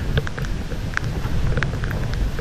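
Wind gusts steadily across an exposed hilltop at Dealul Blajei where the trees lean, a rough, continuous rush with low rumbling buffeting, heard alone.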